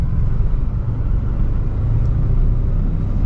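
Steady low engine rumble of a manual car climbing a spiral ramp in a multilevel parking garage, pulling from the clutch biting point with a little gas, continuous and fairly loud with no talk.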